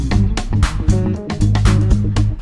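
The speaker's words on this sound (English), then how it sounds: "So what we're listening to right now are some great funk tracks playing in FL Studio that we created with the plugin." Funk tracks generated with the Band-in-a-Box plugin in FL Studio, with added electronic sounds: punchy drums, thick bass and choppy chords in a tight, loud, syncopated groove, no voices.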